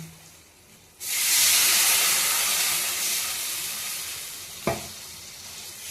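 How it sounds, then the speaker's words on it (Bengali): Water goes into a hot pan with turmeric, bursting into a loud, broad sizzling hiss that slowly settles, with a sharp clatter of utensil against pan near the end. "এখন জল দিয়ে দিচ্ছি।"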